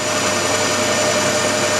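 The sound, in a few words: lathe turning aluminium with WD-40 lubricant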